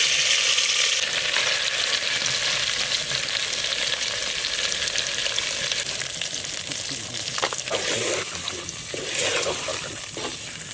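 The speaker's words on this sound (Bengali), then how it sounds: "আলু ভাজা হয়ে গেছে, ওই তেলের উপরেই মশলা মাখানো মাংস দিয়ে দেবো।" Spice-coated country chicken sizzling in oil in a clay pot after potatoes were fried in it, a steady close crackle with occasional stirring and a voice heard briefly.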